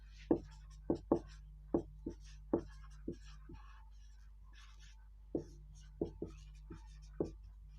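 Chalk or marker strikes on a board during a lesson land in an irregular series of about fifteen sharp taps and short strokes, with a faint voice murmuring underneath.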